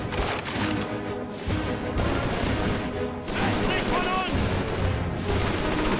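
Bolt-action rifle fire in Call of Duty 3 on PS2, a run of loud, booming shots spaced by pauses, set amid battlefield noise, with a voice talking underneath.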